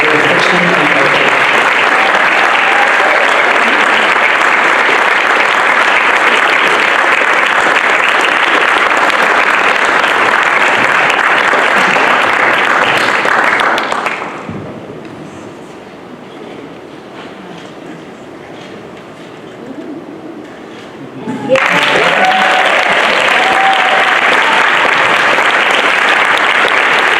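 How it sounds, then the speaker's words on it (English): Loud, sustained applause from a large crowd at an awards ceremony, dropping away to near silence partway through, then bursting back up at full strength. "let's give another round of applause"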